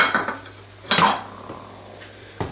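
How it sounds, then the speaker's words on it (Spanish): A utensil stirs hot cuttlefish-ink broth in a metal pot, giving a few scattered scraping clinks against the pot with a low steady hum underneath, close and moderately quiet. "Removemos para que la tinta se extienda bien y se disuelva bien."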